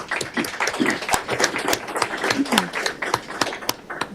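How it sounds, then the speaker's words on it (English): Scattered applause at a county board of commissioners meeting, individual claps distinct and uneven, fairly close, with light murmuring between them. "Let's give Angel a round of applause"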